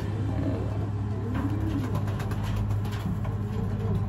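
A racing pigeon coos in low, soft murmurs, mixed into a steady, loud background rumble that could be an engine or traffic.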